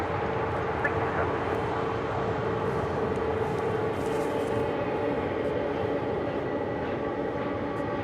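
A JetBlue airliner landing on runway 25 left at LAX comes through as a steady, broad roar with a low rumble and a hissing upper band, holding loud and even from start to finish with no talk over it.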